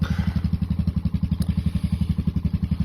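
A small engine cranks over in minus 20 cold with the choke pulled, a steady loud rhythmic chugging of about ten beats per second throughout, close up and without speech.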